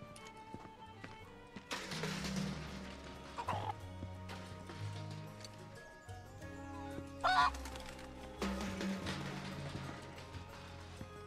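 Chickens in the video game Final Fantasy VII make repeated clucking, honk-like calls in short bursts, with game music and effects around them and no talk.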